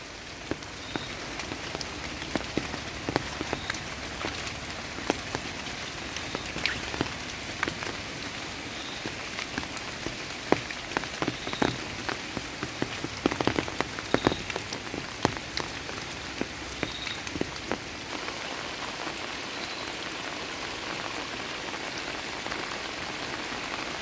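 Steady rain falling on a surface, with frequent irregular drips and taps scattered throughout over a constant hiss; no voices.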